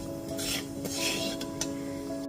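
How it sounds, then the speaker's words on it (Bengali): Black cumin seeds fry in hot oil in a pan, a steady close hiss with soft stirring scrapes and faint clinks running throughout. "ফোড়নটা এবার হালকা করে একটু ভেজে নিচ্ছি।"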